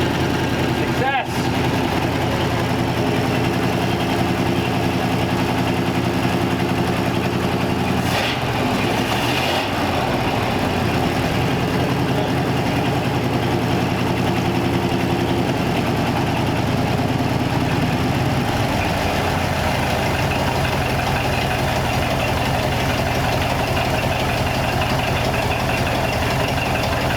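A 1934 Ford car engine idles steadily and close by, running off a new gas tank, with a low continuous rumble throughout.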